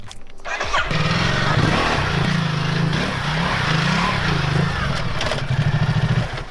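A Ducati Multistrada 1260 Enduro engine roars loud and close, revving hard and holding a throbbing drone with pulsing rises as the bike spins donuts, ending in choppy revs.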